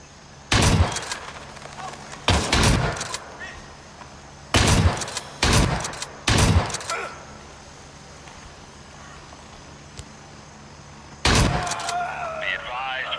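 Gunfire in a military video game, several loud separate bursts arriving in irregular clusters of one or two shots each, with quiet ambient stretches between them and a faint click or chatter near the end.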